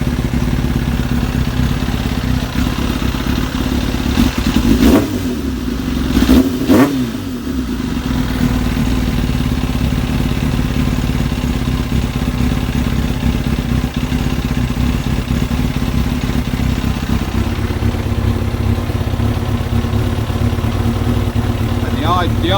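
A Kawasaki ZX7R motorcycle engine idling steadily with a low mechanical rumble, briefly blipped around the middle before settling back to a constant idle, with talking over it.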